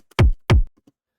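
A dubstep kick drum sample from a sample pack, struck twice in quick succession, each a loud, punchy low thump with a sharp transient and a short decay into silence.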